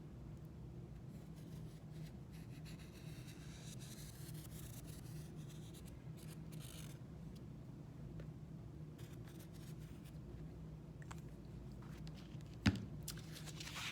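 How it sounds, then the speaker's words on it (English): A pencil scratches faintly on paper while tracing around the bottom of a sneaker sole to make a shoe template, quiet continuous strokes with a brief louder knock near the end. "you're just gonna trace around the bottom of your sneaker"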